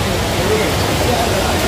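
The Aagaya Gangai waterfall in the Kolli Hills throws spray, making a loud, steady, broadband roar and hiss that fills the whole moment close up without a break.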